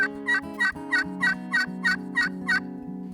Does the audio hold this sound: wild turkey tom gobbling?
yes